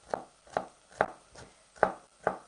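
A sharp knife chops vegetables for a vegan red pepper bisque. Six evenly spaced, crisp chops ring out close and clear on a cutting board, with no talk.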